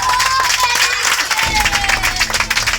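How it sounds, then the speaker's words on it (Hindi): Loud applause from an audience at a class results announcement, many hands clapping together over a voice and a sustained tone, growing heavier partway through. "सबसे पहले जोरदार तालियां।"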